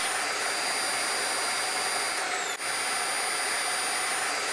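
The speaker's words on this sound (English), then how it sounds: "insert the hose into the remote inlet valve with a slight twisting movement. The vacuum will switch on automatically." An InterVac CSRM central vacuum in an RV runs with a loud, steady whooshing whine, holding constant throughout apart from one brief click or dip midway.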